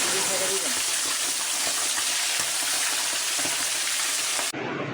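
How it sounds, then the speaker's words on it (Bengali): Two chickens fry in a wok full of oil, a dense, steady crackling hiss that fills the whole stretch at close range before cutting off abruptly near the end. "এক কড়াই তেলের মধ্যে 2টি মুরগি এখন ভাজাভাজি করবে"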